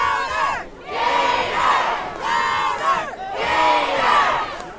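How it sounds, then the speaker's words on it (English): A football crowd at a varsity high school game between Port Allegany and Keystone roars and cheers in repeated loud surges, swelling and dipping in waves with no clear talk over it. "It's really a great crowd."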